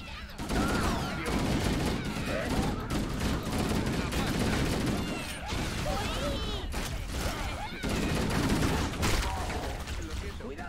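Rapid gunfire from weapons in the video game Halo, dense and continuous bursts layered over game noise for the whole stretch, with a voice talking in places.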